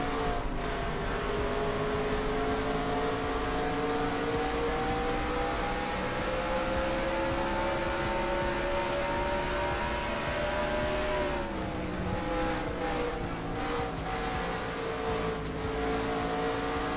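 Onboard the number 8 NASCAR race car in NR2003 at Phoenix, its engine drones loud and steady at high revs, pitch dipping briefly as it lifts and then climbing again, close and continuous with no talk.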